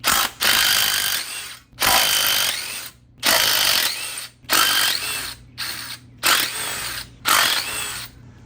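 A small power tool breaks loose exhaust header bolts on an Aston Martin V12 engine swap, running in seven loud ratcheting bursts separated by short pauses, close up and alone.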